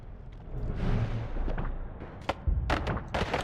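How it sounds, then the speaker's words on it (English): Small explosions in the video game Noita blast away the terrain, giving muffled booming rumbles and then sharper crackling bursts toward the end, with no voices. "they make little explosions that disintegrate land around them"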